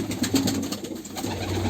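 Pigeons of a mixed Punjabi racing breed coo in soft repeated pulses, close by and alone with no voices.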